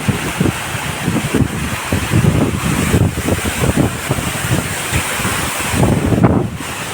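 A pair of waterfalls in a tropical setting roars as a steady, broad rush of falling water, continuous and loud throughout with gusty rumble layered over it and no voices.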